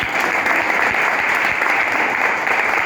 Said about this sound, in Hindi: एक बार उनके लिए आप ताली बजाएं